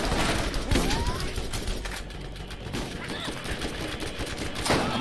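A gun in the Borderlands shooter video game fires in rapid repeated bursts, loud and dense across the stretch, with a sharp crack near the start and another burst at the end over busy game noise.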